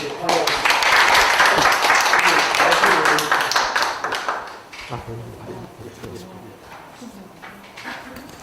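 A lecture audience claps loudly and densely for about four seconds, then the applause thins and fades as a voice begins speaking.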